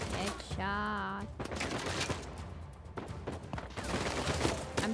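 Gunfire in the video game Uncharted 4: rapid bursts of shots crackle over a busy game soundscape with a sustained tonal effect early on, while a player talks over it.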